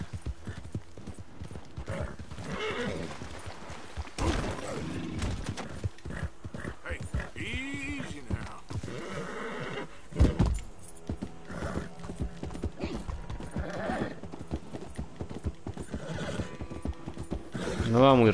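Horse hooves clop along in the Red Dead Redemption 2 video game, with the horse whinnying. Someone talks over the rhythmic hoofbeats and game sounds.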